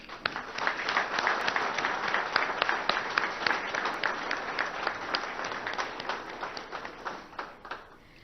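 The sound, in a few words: applause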